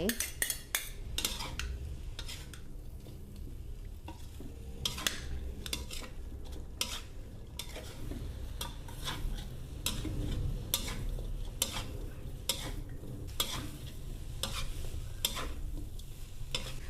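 Cabbage and soft mee sua longevity noodles are stir-fried in a pan, with a utensil scraping and tossing in repeated sharp strokes over a continuous close sizzle.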